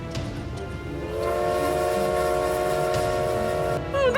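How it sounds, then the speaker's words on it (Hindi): A train horn sounds for several seconds over the low rumble of a train starting to move, alone and fairly close, with a short squeal at the end. "चलने लगी है ट्रेन, चलो।"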